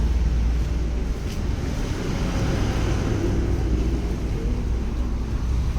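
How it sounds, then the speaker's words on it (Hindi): Heavy trucks rushing past on a roadside, a steady, loud broadband rumble with wind buffeting that holds for about six seconds with no break. "आज इलेक्शन के चक्कर में लगता है ट्रक कुछ ज्यादा भाग रहे हैं।"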